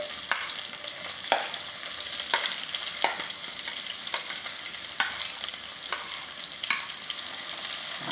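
Onion sizzling as it fries in a pan for a puri curry, with steady crackle broken by a series of sharp, regular scrapes of a spatula stirring it, close and fairly loud with no talk.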